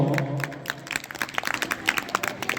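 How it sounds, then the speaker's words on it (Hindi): Audience applause welcoming a young saffron-robed sannyasi at a girls' gurukul gathering, scattered clapping from a crowd that rises into a steady patter after a fading musical tone at the start. "इनका भी स्वागत करेंगे तालियों से"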